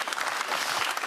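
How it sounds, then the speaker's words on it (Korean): An audience at a talk event with the president applauds, a brief, dense patter of many hands clapping at moderate loudness. "박수로 청해 볼까요?"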